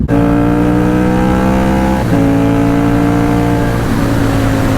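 An old yellow Ducati motorcycle at a track day roars loudly and close, its steady engine note dropping in pitch twice as it shifts through gears.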